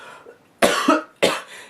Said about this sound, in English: here come the coughs again.